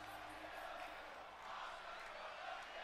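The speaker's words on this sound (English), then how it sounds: "the crowd is chanting that Asuka's going to kill them" A wrestling arena crowd in WWE 2K23 chants and roars continuously, a dense, distant-sounding wall of voices at steady level throughout.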